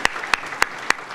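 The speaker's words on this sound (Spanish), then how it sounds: "un aplauso, un cordial y fuerte aplauso para cada uno de ustedes." Four sharp, evenly spaced hand claps ring out at a book launch for a criminal law text, close and crisp, with no voices alongside them.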